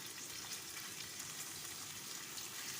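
Chicken with ginger and garlic frying in oil, giving a soft, steady, even sizzle with no stirring strokes or voices, quiet and continuous throughout.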